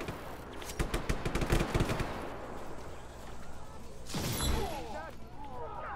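Bursts of rapid gunfire in Just Cause 3, a dense fusillade of shots in the first couple of seconds followed by a louder blast and rumble, with a voice talking over the action.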